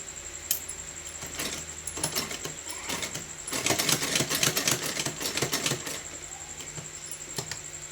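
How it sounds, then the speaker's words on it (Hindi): A sewing machine stitches a Laddu Gopal dress made from a straight strip of fabric, running in a rapid clattering burst between quieter ticks and pauses. "इस तरह से घुमाते हुए हम यहाँ भी सिलाई लगा लेंगे।"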